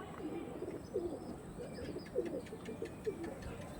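Pigeons coo softly in a series of short, rolling calls mixed with faint chirps, fairly quiet against a low background hiss.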